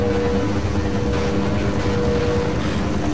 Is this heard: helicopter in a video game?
yes